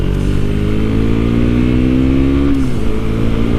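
A KTM Duke 390 motorcycle engine revs loud and close, holding a steady rising drone that climbs in pitch before dropping off near the end, with no talk over it.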